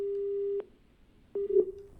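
After a village council head ends a phone call, a steady telephone busy tone sounds in evenly spaced beeps, clear and close, with a short gap and then a distorted final beep.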